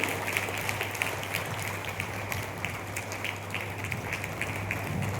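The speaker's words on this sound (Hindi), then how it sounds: "जोरदार ताली सभी के लिए बजाइए।" Steady applause from a crowd, a continuous wash of clapping with faint individual claps, moderately distant and sustained throughout.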